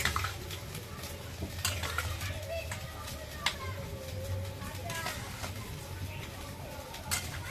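Meat stirred in a pan with garam masala, village-style cooking, gives quiet scraping and clinking of a spoon against the pot over a soft low sizzle, with occasional sharper knocks.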